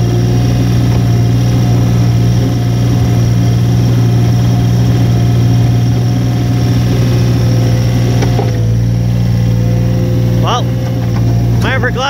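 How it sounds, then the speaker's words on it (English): A skid steer's engine drones steadily and loudly nearby on a snowy day, with a strong low hum throughout and some speech over it. "Glad the skid steer decided to start today"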